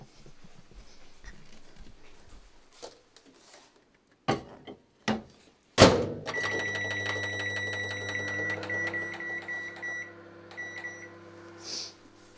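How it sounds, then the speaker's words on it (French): Microwave oven running at full power with a lasagne dish of butternut inside, a few clicks and thumps of the door and controls, then a steady close hum with a faint beep near the end. "on va enfourner ça pendant 10 minutes à puissance maximale au micro-ondes"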